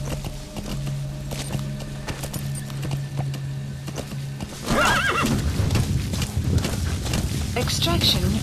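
In Metal Gear Solid V, a horse whinnies loudly partway through, with clip-clop hoof steps and a busy game background of music and effects; a voice speaks briefly.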